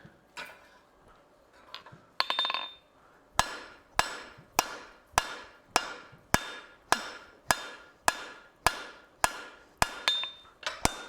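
A hammer strikes hot metal on an anvil during forging, with a few scattered taps at first, then a steady rhythm of sharp ringing blows about every half second, loud and close.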